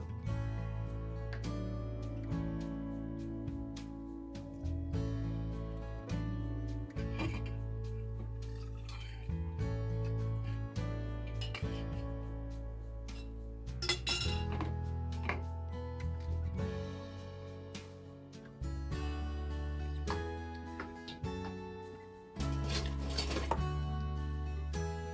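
Vegetable soup is ladled into glass canning jars with a spoon set inside each jar, giving scattered clinks and wet pours over a steady bed of background music.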